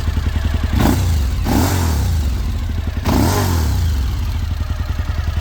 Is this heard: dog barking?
no